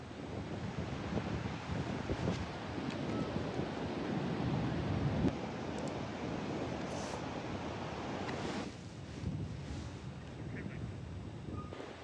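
Powerful surf breaks along a coastline in a steady, dense roar, with wind buffeting the microphone and a few faint bird-like calls near the end.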